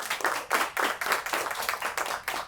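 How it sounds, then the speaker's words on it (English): A group applauds Dr. Shirley at the Black Men Black Love 2021 gathering, the clapping falling into a loose, steady rhythmic beat of repeated bursts, sustained and fairly close, without voices. "let's clap it up for Dr. Shirley"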